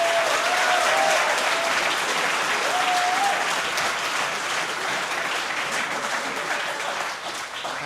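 An assembly audience applauds Supreme Court candidates, giving a full, steady round of clapping that holds strong for several seconds and then eases slightly toward the end, with a faint whistle near the start.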